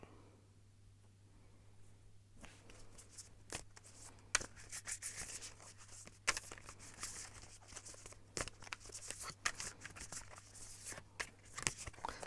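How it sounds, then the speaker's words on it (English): Tarot cards being shuffled by hand, a quiet irregular run of riffling, rubbing and tapping after a brief hush, close and soft. "I'm gonna shuffle some more cards"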